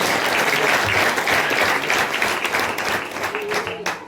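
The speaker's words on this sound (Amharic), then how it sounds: "አጨብጭቡ ለጌታ።" Loud, dense applause fills a Sunday church worship service as the congregation claps together, steady throughout and fading slightly near the end.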